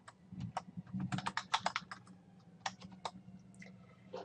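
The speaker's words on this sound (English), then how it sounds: "you simply type in the title." Typing on a computer keyboard, a quick irregular series of close, crisp key clicks over about four seconds, quiet overall with a faint low hum underneath.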